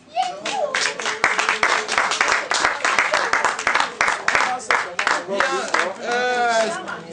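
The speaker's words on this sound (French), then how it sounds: "je vous demande d'acclamer pour la famille Kwimi" A crowd at a fiftieth-birthday gathering claps and cheers for the Kwimi family, a dense burst of applause with voices whooping through it, close and loud for several seconds.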